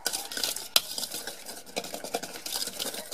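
Chocolate cake batter stirred with eggs and sugar in a bowl, a close, steady scraping and clinking of a utensil against the bowl with irregular little knocks and no talking.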